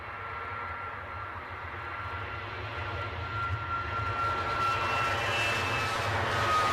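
EasyJet jet airliner taxiing at Edinburgh airport, a steady low engine rumble and broadband roar with a faint high whine, slowly growing louder over several seconds, heard from a distance with no talk.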